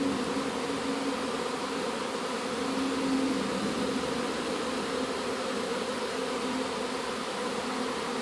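A honey bee swarm pours from a beehive, a dense, steady buzzing drone of many insects that holds at an even level throughout, with no voices.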